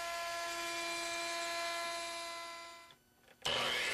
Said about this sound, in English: On the router table, we use an OG bit to shape the inside edge of the frame.